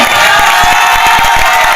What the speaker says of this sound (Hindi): एक जोरदार ताली इन सबके लिए कीजिए।